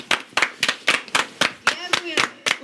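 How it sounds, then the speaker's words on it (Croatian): A crowd at a Croatian presidential rally claps in unison, about ten sharp, loud, evenly spaced beats in a steady rhythm, with a little voice between claps. "Plješćite."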